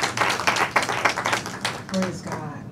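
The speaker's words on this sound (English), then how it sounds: "We just need to give God a clap for" A funeral service congregation claps in a quick, steady burst of hand claps, close and moderately loud, with voices mixed in near the end.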